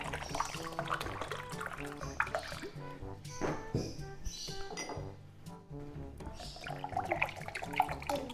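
Fresh coconut water poured into drinking glasses, with a steady liquid trickle and splash broken by light glass clinks, close up amid household kitchen sounds.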